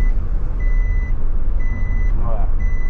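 A steady series of evenly spaced electronic beeps from a truck's seatbelt warning alarm, four tones over a loud engine rumble inside the truck.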